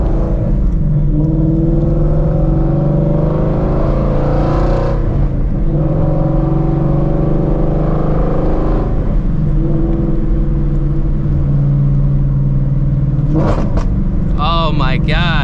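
A loud Shelby GT350 Mustang engine drones and revs steadily nearby, its exhaust roar filling the scene with rising and falling pitch throughout.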